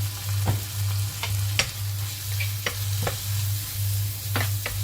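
Seasoned minced meat cooks in a pan with salt, sweet paprika and pepper: a steady sizzle over a low hum, punctuated by several crisp spoon scrapes and taps.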